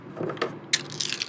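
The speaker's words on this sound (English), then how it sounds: "I'm just rolling dice" Dice being rolled, a few small clattering knocks and rattles, close and fairly quiet, with a brighter burst of tumbling clicks toward the end.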